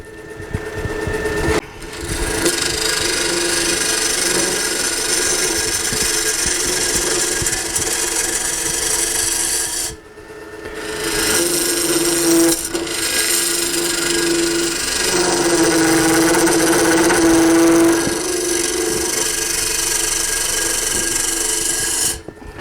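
A wooden bowl is hollowed on a lathe with a steady, loud machine whir and the rasp of the cutting tool, broken by two brief pauses where the sound drops away.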